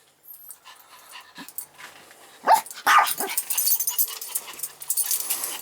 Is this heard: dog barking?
yes